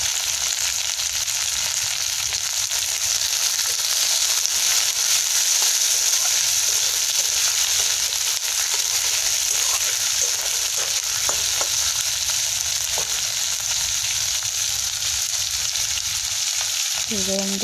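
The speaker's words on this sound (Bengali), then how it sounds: "এখানে সব পেঁয়াজ দিয়ে দিচ্ছি, পেঁয়াজটা একটু নাড়া করে" Chopped onions sizzle and fry steadily in a hot pan for a chilli chicken dish, with occasional scrapes and clinks of stirring; a continuous, close, even hiss with no talking.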